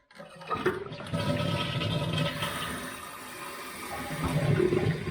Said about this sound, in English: I'm going to hit the first button, which is the light flush